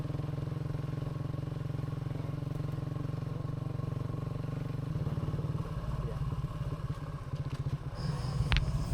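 A motorcycle idles and rides along a farm road in Negros Occidental, its steady engine drone loud and continuous, turning rougher and more clattery midway as it moves over uneven ground, with a brief high whine near the end.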